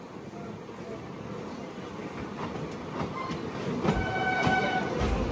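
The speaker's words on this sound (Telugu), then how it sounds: "ఆ బండి లెక్క కాదు, ఈ బండి వస్తుంది, మన బండి లోపలికి వెళ్తుంది." A WAP 7 electric locomotive hauls the Golden Temple Mail past, a steady close rumble building into louder rolling clatter toward the end, with tonal hums and a few sharp clanks.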